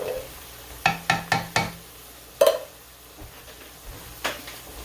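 Minced meat with garlic and onions being broken up in a pan, with a quick run of four sharp spatula taps, a louder clack and a few softer scrapes over a faint sizzle, with no talking.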